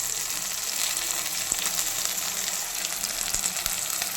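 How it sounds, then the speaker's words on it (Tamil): Masala paste for a kilangan fish curry fries in a pan, a soft, even sizzle and hiss with a few scattered small pops and clicks, no talking. "இது கொஞ்சம் நல்லா ஃப்ரை ஆகட்டும்."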